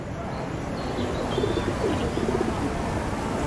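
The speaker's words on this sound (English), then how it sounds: "enjoy it under the chirping of the birds, the cooing of the pigeons, and the splashing of the water" Birds chirp and pigeons coo in a busy outdoor setting in Kyoto's Nishiki market area, a steady wash of ambient noise and splashing water underneath with scattered calls throughout.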